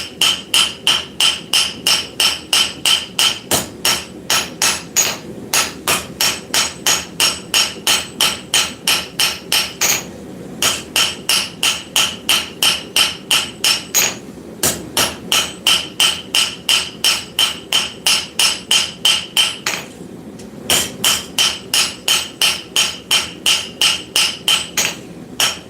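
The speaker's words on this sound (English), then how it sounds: "A little bit of auto body hammer. So just planish everything." An auto body hammer planishes a forged bar flat in a workshop, sounding as a loud, fast, steady run of ringing metallic strikes that continues for many seconds with only brief pauses, and nobody speaking.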